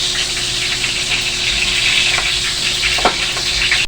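Onion and garlic sauté in hot oil for pork sinigang, a steady close sizzle and crackle with a few stirring scrapes, no talk over it.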